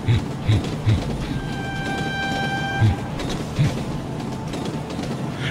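An animated cartoon train approaches on rails with a rhythmic clickety-clack of heavy low thumps over a continuous rumble, plus a thin sustained tonal whine partway through, loud and close with no voices.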